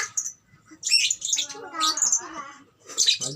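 Pet lovebirds chirping inside their cage, a quick run of high bright tweets in short bursts with pauses between, fairly close, mixed with some low indistinct voices.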